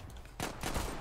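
Desert Eagle pistol fire in the online shooter Zula: after a quiet lead-in, a burst of loud, close shots lands in the second half, sharp cracks merging into a dense volley with no talk.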